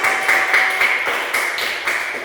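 Children in a classroom clap for their classmates Novi and Ivel, giving a short run of light, evenly spaced claps that stays fairly close over a faint ringing tone.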